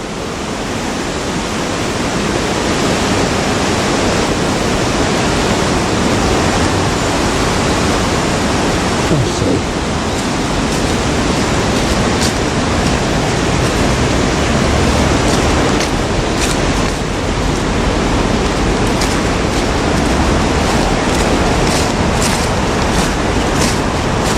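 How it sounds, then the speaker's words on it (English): River water in a Belfast park flowing under a road, a loud, steady rushing wash that stays constant and close, with no voices over it. "I don't know what the name of this river would be, but it looks as if it runs under the road there"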